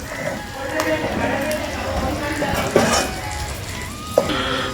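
Chopped onions sizzling in a pan as they are stirred, a moderate frying hiss with occasional sharp utensil clinks against the pan, while a person talks over it.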